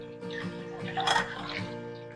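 Water from soaked brinjals pours and splashes out in a short, soft kitchen draining sound, close and steady.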